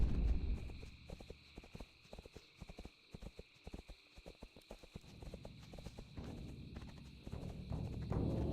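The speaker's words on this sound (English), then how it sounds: "I could just get on my horse and just ride on out of here" A horse ridden in World of Warcraft clip-clops along at a steady walking rhythm, the hoofbeats crisp and fairly close over a faint ambient hum.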